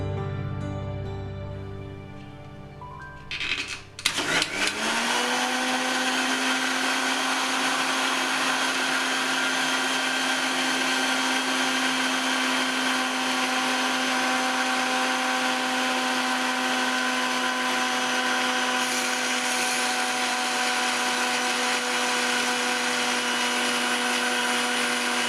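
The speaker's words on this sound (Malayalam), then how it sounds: "ഇനി നമ്മളിത് അടിച്ചെടുക്കാൻ പോവുകയാണ്." Mixer grinder blending eggless mayonnaise at high speed: a brief clatter as the motor starts, then a loud, steady whirring roar that holds unchanged for over twenty seconds, close by, with no talk.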